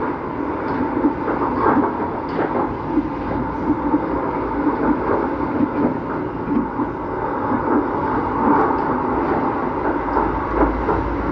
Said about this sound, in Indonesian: Nah ini ada kereta api apa nih, Argo Cirebon atau Argo Sindoro itu.